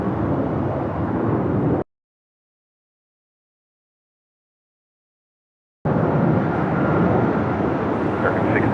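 A Southwest Airlines airplane at Los Angeles International Airport (LAX) gives off a loud, steady broadband jet roar that cuts out abruptly into a few seconds of total silence, then resumes just as strongly.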